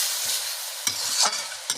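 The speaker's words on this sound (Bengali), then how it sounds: "এবার আমি ভালোভাবে মশলাটাকে কষিয়ে নেব" Spiced masala for katla fish kalia being stir-fried in a pan, a steady close sizzle broken by a few sharp scraping strokes of the spatula, with no voices.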